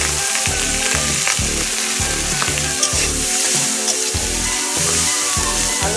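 Small fish coated in turmeric fry in a pan of hot oil, giving a loud, dense, continuous sizzle with occasional stirring scrapes and spatters, and no talking.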